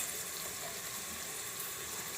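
Steady running water poured into a pan of green val bean curry, a continuous broadband gush holding an even level throughout with no voices.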